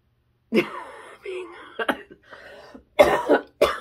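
Several harsh coughs come in short bursts close to the listener, with breathy pauses and a little throaty vocal sound between them.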